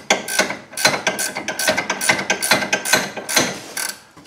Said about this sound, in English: I can get a ratcheting wrench in there